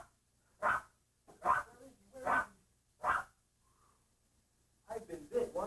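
A Doberman barks in four loud, evenly spaced single woofs close by, then a faint whimper and a quick burst of several more barks at the end.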